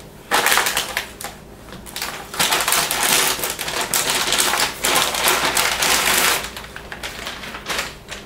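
Cardboard and plastic packaging from an NVIDIA GeForce GTX 780 graphics card box crackles and rustles in loud, close bursts as it is handled and pulled away, with short pauses between.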